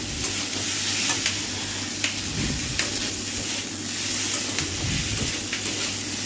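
Pasta sizzles steadily in a hot pan as five-spice seasoning goes in, a dense continuous frying hiss with faint scraping stirs and no talking.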